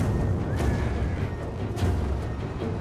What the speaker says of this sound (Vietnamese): có pháo pháo to kìa,